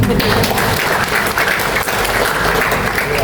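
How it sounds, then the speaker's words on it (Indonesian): Applause from a church congregation at a thanksgiving Mass for a couple's 50th wedding anniversary, a dense, steady wash of many hands clapping that stays loud and even throughout. "Tepuk tangan ya."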